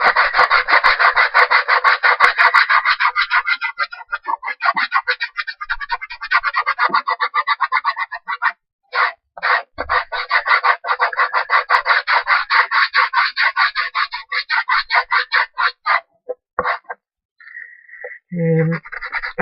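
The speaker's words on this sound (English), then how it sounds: "I feel I've got more control when sanding." Sandpaper rubbing along the edge of a chipboard mini album in steady, close rasping strokes that pause briefly and then resume, with a few short breaks near the end.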